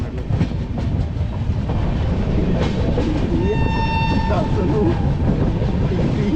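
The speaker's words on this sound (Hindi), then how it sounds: "अभी 2 मिनट के होल्ड के बाद हमारी ट्रेन यहाँ से भी चल पड़ी है।" Delhi SF Express train departing the station, a loud steady rumble of wheels and carriages close by, with a horn sounding in the middle and faint voices nearby.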